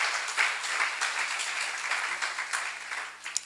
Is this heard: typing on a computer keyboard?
no